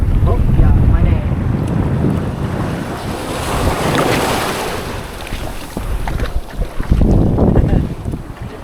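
Strong wind on an island shore during a fishing trip buffets the microphone in loud roaring gusts over the rush of waves, easing midway and then surging again, with faint voices underneath.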